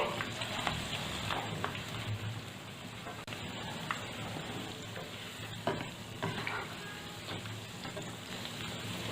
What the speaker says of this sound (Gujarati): મૂઠિયાને આપણે મીડિયમ ફ્લેમ પર તળવાના છે.